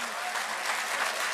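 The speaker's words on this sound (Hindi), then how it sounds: "जोरदार तालियां" Audience applause at an All India Mushaira poetry gathering in Ludhiana, a steady dense wash of clapping from a seated crowd, filling the whole brief moment at moderate loudness.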